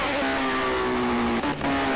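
Race car engine in Project CARS revving hard through a corner, a steady high harmonic whine with a brief dip as throttle lifts, then picking back up, loud and close with no talk.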